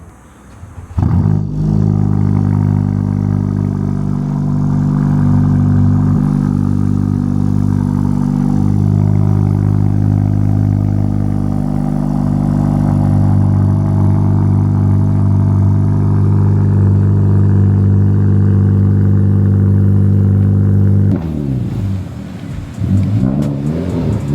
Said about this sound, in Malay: Jom kita dengar cold start dia macam mana bunyi